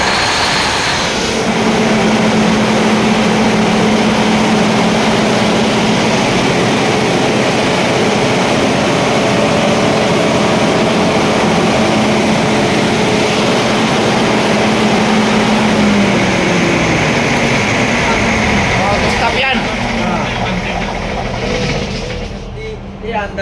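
Emergency generator on a container vessel starting up and running, a loud, steady engine roar filling the engine space with a droning hum that holds for about eighteen seconds before easing down.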